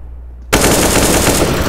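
A sudden burst of rapid automatic gunfire in the video game Counter-Strike, loud and close, sustained without pause after a brief quiet start.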